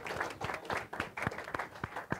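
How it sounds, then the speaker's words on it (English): A comedy show audience claps for a stand-up comedian, a modest round of applause with individual claps clearly audible in an uneven rhythm, fairly close and moderately loud, with no voices over it. "Have a nice round of applause for"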